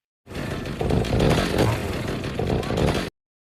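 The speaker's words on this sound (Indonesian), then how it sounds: "Leatherface mulai masuk ke dalam bus dan menyalakan gergaji mesinnya." A motor roars to life and keeps snarling loudly for a few seconds, rough and sputtering like a chainsaw engine, close and harsh.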